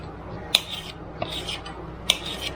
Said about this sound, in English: Now we're just going to go ahead and cut that up into slices.